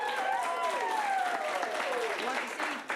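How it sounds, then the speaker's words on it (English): Audience at an improv comedy show clapping to vote for a scene, a dense wash of applause running throughout with voices shouting and whooping over it. "Clap loudest for the one you want to see go on."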